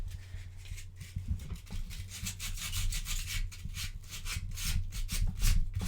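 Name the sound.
sanding with flexible plastic-backed sandpaper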